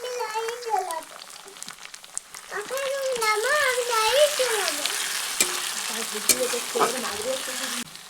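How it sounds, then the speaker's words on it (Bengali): Chopped tomato fries with onions in a pan, making a continuous hissing sizzle beneath a voice speaking throughout, with a few scrapes of stirring. "তো টমেটোটা এখানে ভালো করে ভেজে নেবো যাতে টমেটোটা ভালো করে সেদ্ধ হয়ে যায়"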